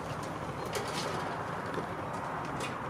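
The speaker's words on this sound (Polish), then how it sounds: "reszta gołębi na dachu" Racing pigeons coo softly on a loft roof, low and distant against a steady outdoor hiss, with a few brief brighter chirps or flutters breaking through and no talking.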